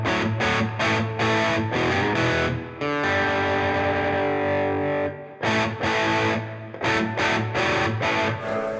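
An electric guitar plays through a Bugera V22 Infinium valve amp with its boost engaged: heavily distorted, saturated chords are struck in choppy bursts, broken by a long sustained ringing chord in the middle. No one speaks.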